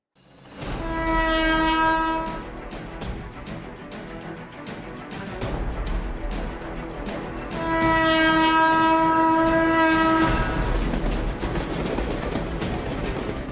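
An air-conditioned electric suburban train in Chennai rumbles past with rhythmic clatter, sounding two long, loud horn blasts, one near the start and another midway.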